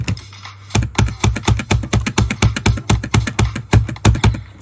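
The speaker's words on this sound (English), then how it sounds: "listen to this click pattern and tell me it's not satisfying" Rapid, evenly spaced mouse or key clicks during a Geometry Dash wave challenge, a close, loud stream of sharp taps in a steady rhythm after a brief pause at the start.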